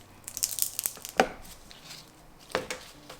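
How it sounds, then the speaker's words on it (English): A blade cuts the ends off a loaf of handmade soap, giving two crisp, close chops with light scraping and crinkling between them. "So just like with those soap samples, I'm gonna cut off the ends."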